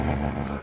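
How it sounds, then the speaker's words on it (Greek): A pet dog lets out a short, low growl, close and fairly loud, lasting well under a second. "Άκου εδώ αγριάδα. Πόπο ένας άγριος σκύλος."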